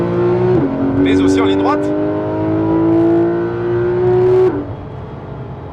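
A Porsche RS sports car engine, a Paint To Sample example, revs hard and climbs through a long pull, holding a steady high whine before backing off sharply, with someone talking over it.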